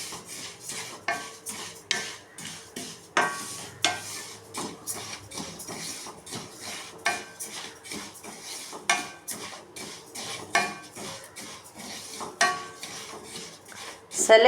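Sesame seeds roasting in a pan while being stirred, giving steady scraping and clinking of the utensil against the metal pan with a faint dry sizzle, repeated in uneven strokes throughout.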